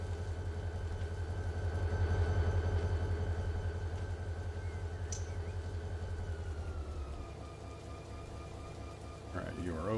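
A locomotive's air compressor in the Run 8 Train Simulator game pumps air into the train brakes, a steady low droning engine with a sustained tonal whine that drops in level partway through, ending with a brief squeal.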